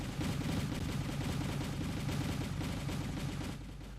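Dense rapid gunfire and rocket launches from the war strategy game Wargame, a continuous loud rattling barrage of shots that thins slightly near the end.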